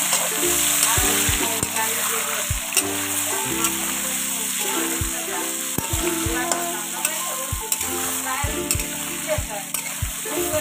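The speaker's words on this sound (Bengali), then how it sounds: "আলু আর কুমড়া দিয়ে একটু হলুদ আর একটু লবণ দিয়ে কিছু সময় একটু ভেজে নেব একসাথে এগুলো সবগুলো" Potatoes and pumpkin frying together with turmeric and salt give a steady, close sizzle, with repeated stirring scrapes and taps against the pan throughout.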